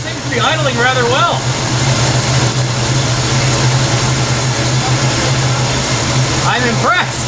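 AMC 304 V8 in an AMX idling loud and steady just after a carburetor repair, a low even rumble throughout with someone speaking over it at the start and end.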